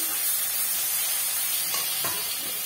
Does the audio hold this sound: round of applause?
no